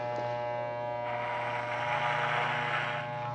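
An electric hair clipper hums steadily and close during a men's social haircut, pressed against the head and run straight upward. The buzz grows a little louder midway, and no one speaks.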